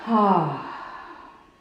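A deep, audible exhale during a yoga flow, with a voiced, sigh-like onset that fades into a soft, breathy release over about a second and a half.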